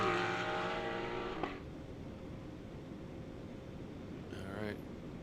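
GT4 race cars including a Ford Mustang racing at COTA, an engine note fading from a strong pass into a distant hum, with a brief tonal sweep of another car later.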